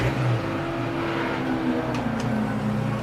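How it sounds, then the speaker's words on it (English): Race cars lapping Silverstone GP circuit in a 750MC Birkett Relay, a VW Polo chasing an Alfa Romeo, engines droning steadily at a distance with a continuous roar and no talk. "it seems a bit incongruous for VW Polo to be able to chase down a very svelte looking Alfa Romeo"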